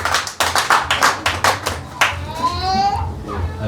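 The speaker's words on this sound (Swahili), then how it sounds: "Pigeni hiyo ndugu makofi ya kilo mingi." Church congregation clapping together in a quick, rhythmic burst of applause that fades after about two seconds into a lingering ringing tone from the sound system.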